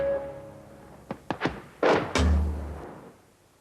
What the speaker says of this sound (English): 81mm mortars put up illumination for night patrols